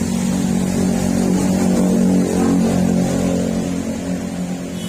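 A Toyota Calya's exhaust roars in a sustained, loud rev, holding a steady throaty drone close by for several seconds before easing slightly toward the end.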